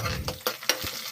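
Tempering spices hit hot oil in a pan, a short close sizzle punctuated by a few quick crackles and pops over barely a second.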